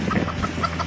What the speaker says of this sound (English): Hey, look, a chicken.